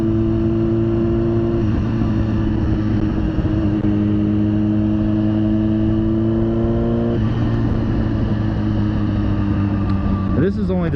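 A 2005 Kawasaki ZX-10R sport motorcycle on its second ride after being freshly built, engine droning steadily with shifting revs and a sharp rise near the end, recorded close up under wind noise.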